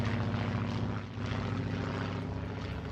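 Propeller aeroplanes drone loudly overhead in the city-building game SimCity, a continuous buzzing engine roar with a brief dip partway through, no voices over it.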